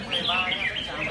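Songbirds perched in cages on a competition stand at a bird-singing contest, their high chirps and warbled phrases overlapping steadily and clearly nearby, with voices murmuring underneath.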